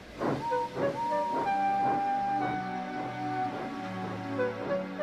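Henry the steam engine hisses and chuffs in rhythmic bursts, with a sustained whistle-like tone running across the steady puffing, close and fairly loud.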